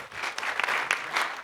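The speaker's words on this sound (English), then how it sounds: "I need more claps." Brief, lively applause from an audience at an international pharmacy research conference, a dense patter of many hands clapping close by for about a second and a half.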